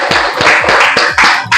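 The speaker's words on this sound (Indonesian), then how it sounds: "tepuk tangan buat kalian semua" A class claps hands together in a few distinct, fairly regular bursts, loud and close, with no talking over it.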